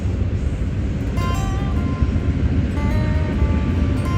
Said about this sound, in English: That lovely train sound coming in the background.